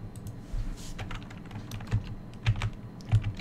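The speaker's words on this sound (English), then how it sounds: "I'm just gonna go through the keyboard buttons." Computer keyboard keys are pressed one at a time while a DOS shareware game is played, giving irregular, close, crisp clicks with short pauses between them and no talking.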